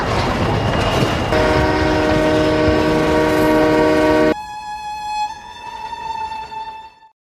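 A train bound for Kolkata, India, rumbles past with a loud, sustained horn blast, then a shriller whistle tone that fades as the noise drops away.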